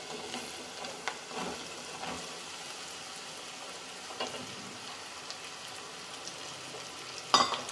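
Ridge gourd pieces stirred into frying onions in a pan for a traditional curry, a soft steady sizzle under occasional scraping spoon strokes, with a sharp louder clatter near the end.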